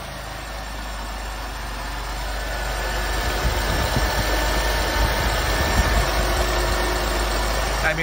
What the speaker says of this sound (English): there's definitely no timing chain noise in this motor